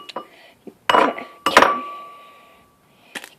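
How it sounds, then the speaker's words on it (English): A single egg is cracked against a bowl in a home kitchen while making French toast, giving a few sharp close clinks and taps, one ringing knock on the bowl, with soft voice nearby. "Crack the egg open."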